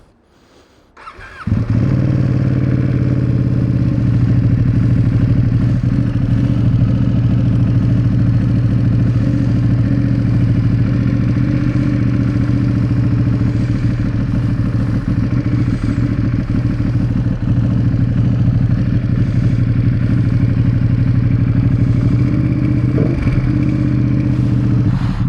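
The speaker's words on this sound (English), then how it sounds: "I absolutely love when children ask me to rev my bike." A motorcycle fires up and then holds a loud, steady, close engine roar with rumbling revs that run unbroken for more than twenty seconds, and nobody speaks over it.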